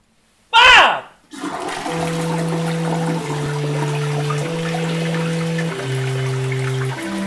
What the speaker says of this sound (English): You flushed my piss!